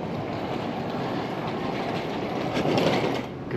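Steady rumbling roar of a train in motion, a continuous dense rattle that swells slightly louder near the end.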